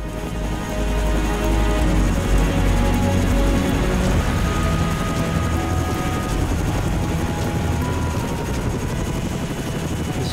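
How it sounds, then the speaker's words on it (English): A helicopter in the military video game ARMA 3 flies close by, its heavy low rotor thump and engine drone loud and steady throughout with no talk over it. "This chopper is a monster."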